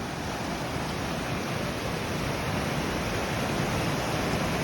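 Bassi Falls, a waterfall among granite rocks in the Sierra Nevada mountains, gives a steady, dense roar of rushing water, constant and fairly distant with no voices.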